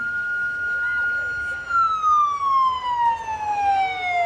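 A medevac ambulance siren sounds during a Christmas parade, a loud, clear wail held steady and then gliding downward in pitch, alone without other noise.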